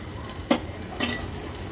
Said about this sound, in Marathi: फोडणी देताना ना मी गॅसची फ्लेम लो केलेली म्हणजे लसूण मिरची वगैरे खूप जास्त करपायला नको म्हणून पाव चमचा हळद ॲड करते